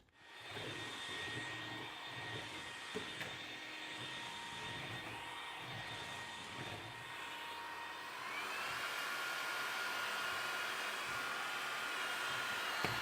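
A small stick vacuum cleaner runs steadily with a faint, smooth motor whine and airflow hiss, rising slightly in pitch and loudness partway through, with no talk.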